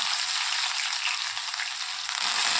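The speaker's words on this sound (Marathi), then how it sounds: "तेल गरम झालं आहे आता टाकत आहोत आपण जिरे" Cumin seeds dropped into hot oil for tempering sizzle with a bright, steady hiss that holds throughout at moderate level, close up and without voices.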